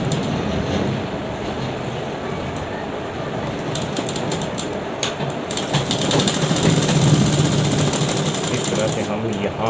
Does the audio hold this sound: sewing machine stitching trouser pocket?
yes